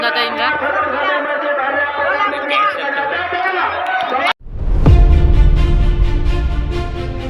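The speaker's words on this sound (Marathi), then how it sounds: "अरे बाप रे बाप, का गर्दी आहे." A large crowd fills a village pola festival with constant chatter and babble, then the sound shifts to a louder wash of voices and noise that holds steady to the end.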